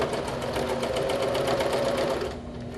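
A sewing machine fitted with a quarter-inch presser foot stitches steadily at close range, a continuous fast whirring hum that eases off and quiets near the end.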